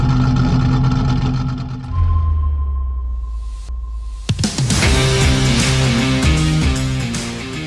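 A powerful race car engine roars loudly, dropping to a steady idle-like drone before surging back up into a harsh, high-revving blast.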